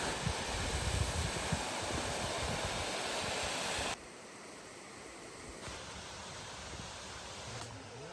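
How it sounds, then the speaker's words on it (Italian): Belgium's highest waterfall, ten metres tall, roars as a steady, dense rush of falling water heard up close. It drops to a somewhat quieter but continuous wash partway through. "Abbiamo trovato anche la cascata più alta del Belgio, 10 metri"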